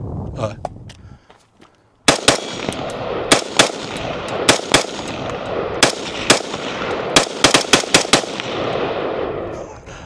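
A rifle on a binary trigger is fired outdoors in the Arizona desert, a rapid string of loud, sharp gunshots in irregular pairs and bursts after a brief quiet gap, close by, with a voice faintly heard at the start.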